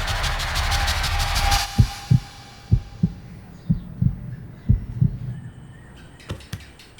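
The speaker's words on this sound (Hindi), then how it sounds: "धड़कनें तेज हो गई है" Fast heartbeat sound effect from a Hindi-dubbed comedy film, a run of deep, evenly spaced thumping beats rising over music that fades out, then a few scattered sharper knocks toward the end.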